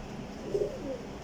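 A Kasuri pigeon gives a single soft, brief coo, faint against quiet background hiss.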